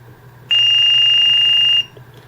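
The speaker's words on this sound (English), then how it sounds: "The alarm has a 3/4 second delay before sounding." A single steady high-pitched electronic beep from a trigger training device alarm sounds clearly for over a second, then cuts off, with a faint low hum underneath.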